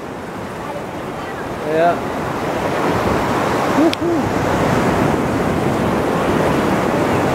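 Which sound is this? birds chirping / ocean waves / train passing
ocean waves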